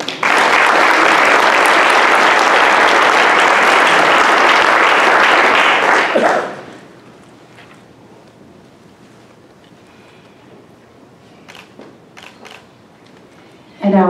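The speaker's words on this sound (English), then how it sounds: "let's give him a round of applause, Andrew Haygood." Loud audience applause at a graduation ceremony fills the first six seconds, then drops abruptly to near silence with a few faint knocks and a brief burst at the end.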